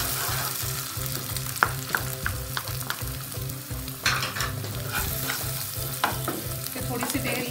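Beaten egg frying with onion and garlic in a pan for egg fried rice gives a close, steady sizzle, broken by repeated scraping and stirring strokes throughout.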